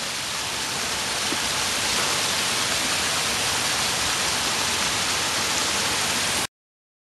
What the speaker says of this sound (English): I'm already coming across little waterfalls.